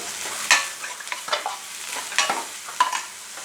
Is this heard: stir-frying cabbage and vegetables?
yes